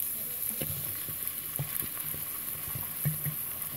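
A pan sizzling as a tomato sauce is cooked and stirred, with a steady close hiss under intermittent soft taps and scrapes of a utensil, no voices.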